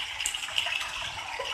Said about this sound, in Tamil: இதில் ஒரு 1/4 கப் அளவுக்கு தண்ணி சேர்த்திக்கோங்க.